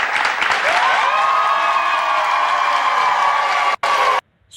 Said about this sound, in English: I'm surprised they was clapping.